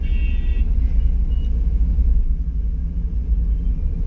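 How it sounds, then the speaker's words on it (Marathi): Steady road traffic in the evening office rush hour near Pune, a continuous low rumble of cars and heavier vehicles passing nearby, with a brief higher engine whine at the start and no talk. "त्याच्यामुळे भरपूर ट्रॅफिक आहे"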